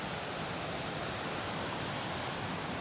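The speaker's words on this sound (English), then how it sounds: "It's kind of a cool waterfall anyway." A waterfall on the South Boundary Trail near La Grace campground gives off a steady, dense rush of falling water. It sounds close and constant for the whole stretch, with no voices.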